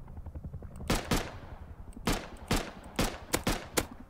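Gunfire from a weapon in the video game Rust rings out in loud, sharp bursts of single shots and quick doubles, spaced irregularly with short gaps between them.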